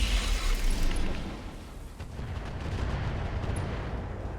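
Mech weapons, including a rocket launcher and short-range missiles, open fire on an enemy Summoner in the RogueTech video game: dense, loud rumbling booms and blasts, strongest at the start and then easing into a steady roar, with no talk.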